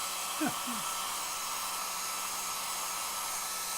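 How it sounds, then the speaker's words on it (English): A hair dryer blows with a steady, continuous whir from start to finish, with a couple of brief squeaky chirps near the beginning. "Using a hairdryer to dry it quicker?"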